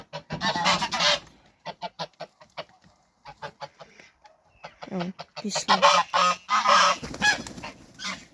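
Four birds squawk and honk loudly in rapid, overlapping bursts, close by, with a brief spoken remark in between.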